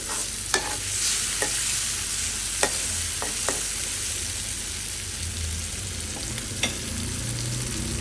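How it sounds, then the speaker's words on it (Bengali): Small shrimp stir-fried (bhuna) in a pan give a steady, close sizzle throughout, with occasional sharp pops and scrapes of stirring standing out; no one speaks. "এই জন্য একটু চিংড়ি ভুনা করতেছি"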